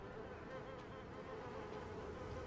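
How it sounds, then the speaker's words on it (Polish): Flies buzzing around a corpse in the video game Little Nightmares II, a steady, low, continuous insect drone that holds evenly throughout without breaks. "Bo tutaj muchy normalnie latają przy tym."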